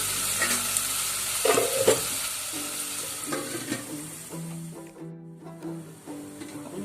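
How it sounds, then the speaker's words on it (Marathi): Onions fry in a pan for paneer matar pulav and are stirred, a close, steady sizzle broken by scraping, stirring strokes, with a short quiet gap near the end. "वेळ कांदा चांगला लाल करून घ्यायचा।"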